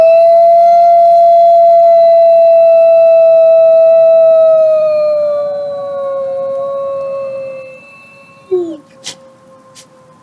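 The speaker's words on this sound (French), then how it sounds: "Cela ressemble bien sûr à un loup." A wolf gives one long, loud, steady howl that slowly falls in pitch and fades, followed by a few faint clicks.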